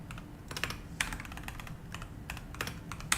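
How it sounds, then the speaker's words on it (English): Computer keyboard typing picked up by a microphone, irregular quiet clicks and clacks in small bursts, fairly close but faint, with no speech. "If the keyboard sounds get annoying, like please let me know"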